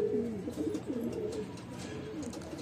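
Several pigeons coo in a loft, throaty rolling calls repeating close by over the first half and continuing more softly with faint background noise.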